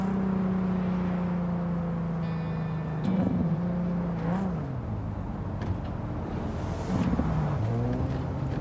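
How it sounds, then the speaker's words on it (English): A car engine in the video game Cyberpunk 2077 drones with a deep, bassy hum, holding a steady low tone with a few brief pitch swells and shifts as it drives. "This car has a very bassy sound to its engine."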